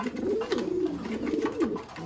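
Racing pigeons, a newly paired male and female, coo in repeated rolling phrases, close and steady over about two seconds with little else around.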